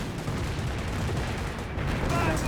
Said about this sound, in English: Massive mortar hits there